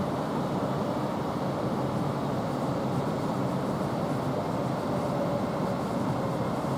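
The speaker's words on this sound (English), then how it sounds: "you've got a train coming through here, which is from London Euston to Liverpool Line Street" A London Euston to Liverpool Lime Street train passes through Milton Keynes Central station as a continuous, loud, even rumble and roar that holds steady for several seconds.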